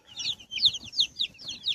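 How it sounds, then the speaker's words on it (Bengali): Sixty young chickens just brought home peep in quick, high-pitched repeated bursts, close by and fairly loud, forming a steady rhythmic chorus with no talking. "এখানে হচ্ছে 60 পিস নিয়ে এসেছি মুরগি"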